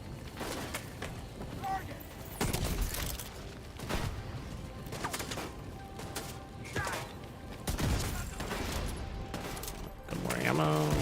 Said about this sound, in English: like how I'm getting shot by those turrets up behind cover